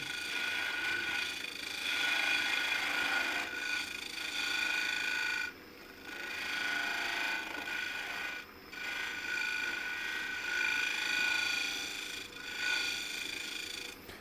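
A lathe tool scraping and cutting inside a spinning maple hollow form, making a steady rasping hiss broken by three short pauses as the cut is lifted off and resumed.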